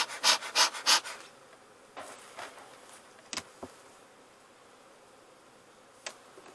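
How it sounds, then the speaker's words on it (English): Honeybees hum inside an open hive in winter, a faint continuous buzz under close, breathy puffs and a few soft knocks, with no one speaking. "A lot of bees in here."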